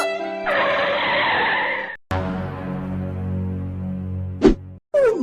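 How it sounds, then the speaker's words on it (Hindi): Cartoon car brakes hard, tires skidding with a long loud screech that cuts off abruptly, then an engine drone rumbles on and ends in a brief squeal and sharp effects. "अंकल जल्दी गाड़ी रोको।"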